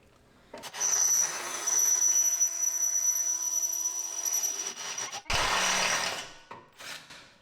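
A power drill whines steadily as it bores into metal on a John Deere 930M mower, then stops and revs again in a shorter second burst, close and loud.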